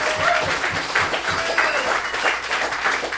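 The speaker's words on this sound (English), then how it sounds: "Round of applause for Jonathan." Applause rings out in a guitar shop during a Taylor guitar road show event, a lively burst of clapping from a modest crowd with occasional louder claps punctuating it.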